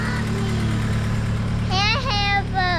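EK Coupe car engine idling at about 1,000 rpm, a steady low hum throughout, with a person talking over it.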